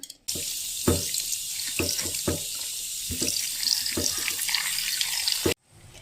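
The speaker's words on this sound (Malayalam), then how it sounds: "ഇനി നമുക്കിത് കഴുകി വൃത്തിയാക്കിയിട്ട് വെക്കാം." Chopped vegetables for avial, cut into thin lengthwise strips, rinsed under a running kitchen tap, a steady loud water rush with intermittent splashing thumps as the pieces are handled, ending abruptly when the flow stops.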